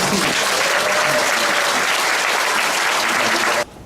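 An audience at a social welfare day sponsor event in Jung-gu applauds its sponsors, a thick, sustained burst of crowd clapping that cuts off abruptly near the end.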